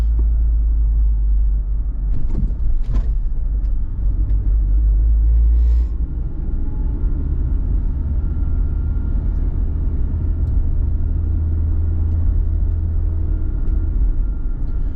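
A car rolls slowly through a quiet residential neighborhood in Uvita, Costa Rica, near a school. A deep, steady rumble is heard close up, with a heavier thump and jolt early on as the wheels go over a speed bump. No one speaks.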